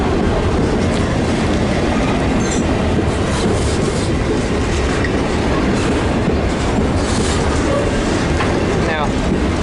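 A grain train rolls past close by on standard gauge track at Geelong, a loud continuous rumble of wagons with rhythmic wheel clatter and faint squeals throughout, with a voice partly buried beneath it.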